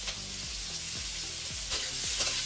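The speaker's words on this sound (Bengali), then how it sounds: "একটু ভেজে নেওয়া হবে।" Green chillies fry in a pan of ripe mango curry with turmeric, giving a steady hiss broken by several evenly spaced stirring strokes, close and moderately loud.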